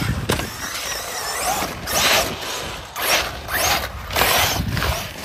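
A Hobao Hyper ST RC car drives through snow, its electric motor whining and surging in repeated bursts with mechanical drivetrain noise, close and fairly loud.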